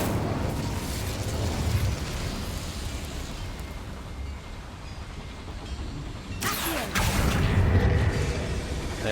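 A fire spell in the Hogwarts Legacy video game sets off a sudden, loud burst of roaring blast noise inside a mine, rising sharply over a low, continuous rumble and carrying on in a dense roar.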